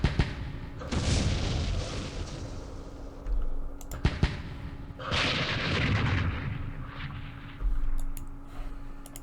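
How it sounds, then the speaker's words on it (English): Mortar fire in the Campaign Series Middle East war game: a few sharp booming shots with rumbling blasts, spaced over several seconds, alongside scattered mouse and keyboard clicks. "Let's advance 1 hex with our mortars. Do some firing."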